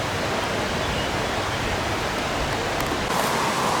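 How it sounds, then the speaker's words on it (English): An outdoor shower fed with cold spring water runs in a dense, even hiss of falling water, loud and close, with no voices. "Going to try taking the shower right now with this system"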